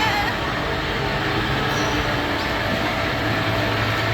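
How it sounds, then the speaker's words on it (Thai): Steady rumbling of a small ride-on train rolling through a shopping mall, a continuous low clatter with a faint hiss above, no voices. "รถไฟจะจอดสถานีแล้วนะคะ"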